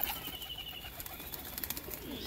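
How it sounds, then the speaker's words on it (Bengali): Pakistani taddy pigeons coo softly in a loft holding around eighty birds, with faint low calls and light rustling at a distance. "তো বন্ধুরা দেখুন পায়রাগুলো।"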